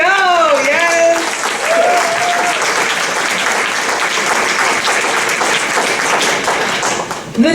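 A crowd at a retirement party breaks into loud, sustained clapping and cheering, with voices calling out over the dense applause throughout.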